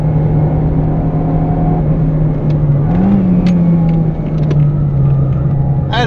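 A Fiat Cinquecento Sporting engine straining as the small car climbs uphill, a loud, steady droning hum that rises briefly in pitch and then settles, with faint clicks and rattles over it.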